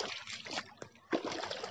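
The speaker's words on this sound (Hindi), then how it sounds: "इसके अंदर फास्ट पानी जा रहा है" Irrigation water rushes fast out of a pipe into a farm field, a steady broadband gushing and trickling close by, with a brief splashy surge partway through and no talking.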